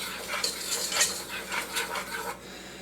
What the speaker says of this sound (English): I'm going to whisk this together real quick here.